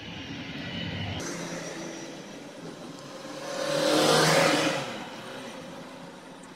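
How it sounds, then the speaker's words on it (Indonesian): A drone's small motor whirs up as it powers on, building to a louder buzzing whine that peaks and then settles back down, heard alone without speech. "Kemudian hidupkan remote dan drone-nya."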